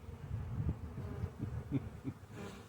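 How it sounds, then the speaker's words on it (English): A large fly buzzes close around a beehive among honeybees, a steady insect drone with rising and falling passes, moderately loud and alone. "There's this big honking fly that sure wants to get in there and get some of that honey."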